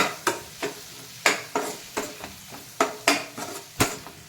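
Garam masala and turmeric stirred into cooked onion and tomato in a pan, a spoon knocking and scraping against the metal in a dozen or so sharp, uneven strokes, close and clear with no voices.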